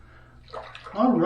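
Tap water runs to rinse a Zeva razor after a shave, starting softly and swelling into a close, steady splashing stream near the end.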